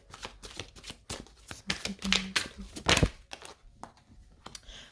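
Tarot cards shuffled and handled up close, a rapid series of papery riffles, slaps and rustles with a louder burst near the end.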